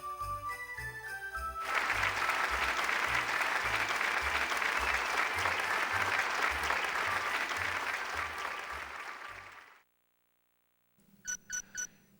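Applause rises for Mayor Goldstein in the video game Raw Danger, a loud sustained crowd clapping over a rhythmic low musical bed, cutting off abruptly into silence before three short electronic beeps.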